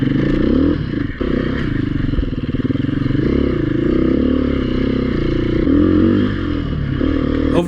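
A Beta 430 dirt motorcycle labours up a hill in second gear, its engine droning steadily and loud throughout, with clattering and scraping from the bike, a brief dip near the start, no talk.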